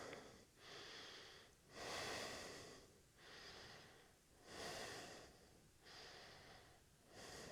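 Slow, deep breathing held in yoga camel pose during a strength and flexibility flow, with about six long audible inhales and exhales alternating with short silent gaps and no talking.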